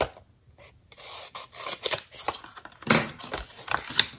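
Scissors snipping through paper for a Halloween craft, a close run of irregular cuts and rustling paper handling.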